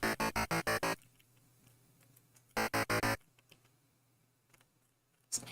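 Synth sounds played on an M8 tracker: two loud bursts of rapid stuttering pulses, one at the start and another near three seconds, with a faint buzzy tone sitting underneath and a brief hit at the end.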